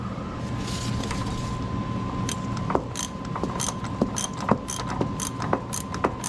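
A hand wrench ratchets loose big suspension bolts on a truck during a 6.7 Powerstroke swap, with repeated metallic clicks and pulls spaced every second or so over a low hum, and no talk.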